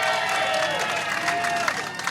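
A wrestling crowd cheers and applauds for Mike Camden at a live event, a dense roar of voices and clapping filling the hall, sustained and fairly loud.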